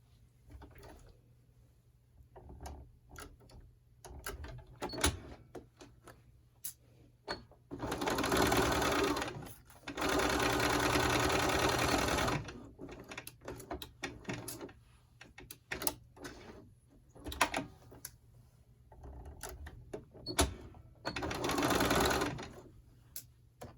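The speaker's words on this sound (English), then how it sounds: "We are going to back stitch at the beginning and the end." Close sewing machine back stitching a seam on a Simplicity 9274 garment, with several loud sustained runs of rapid stitching separated by clicks, handling and shorter bursts, and no talking.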